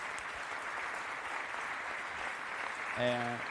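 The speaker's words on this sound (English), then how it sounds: "So a warm Maranello round of applause for the fans." Steady, fairly distant audience applause for fans at the Ferrari SF90 presentation in Maranello fills the space continuously, with a brief voice or tone cutting in near the end.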